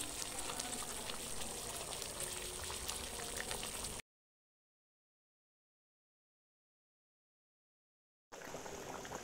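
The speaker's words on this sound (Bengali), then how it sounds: "পানি গরম হয়ে গেছে, বলক উঠে গেছে।" A pot of beef curry bubbles at a vigorous boil with a dense, steady burbling, cut by a stretch of total silence before the bubbling resumes.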